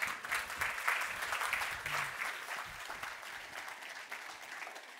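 Applause breaks out from a conference audience as a guest speaker is welcomed, dense clapping that starts strongly and gradually thins and softens toward the end.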